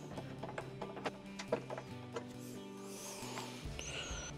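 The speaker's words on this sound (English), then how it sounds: "Tighten the screw." A screw being driven into the lid lock assembly of a Samsung washer with a DC error, heard as a quiet, close run of ratcheting mechanical clicks and rubbing turns, with no voice over it.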